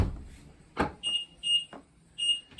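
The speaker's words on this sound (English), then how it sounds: "you get the 3 beeps indicating that the keys are located still inside of the car" A BMW i3 gives three short, high electronic beeps in close succession after the hatch thuds shut, warning the keys are still inside; loud and clear against near silence.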